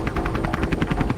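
Rescue helicopter over the wrecked cruise ship Costa Concordia, its rotor beating in a steady rapid chop with a heavy low engine rumble, loud and continuous throughout with no talking.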